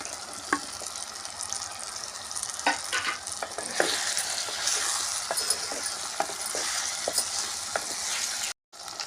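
Tomato curry with drumsticks sizzles in a pan while being stirred, giving a continuous fry hiss broken by repeated scraping and knocking strokes of the spoon, with no speech and a short dropout near the end.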